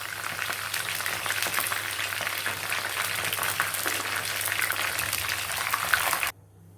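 Chicken pieces fry in hot oil in a kadai for chicken fried rice, giving a steady loud bubbling sizzle that runs unbroken for about six seconds and then stops abruptly.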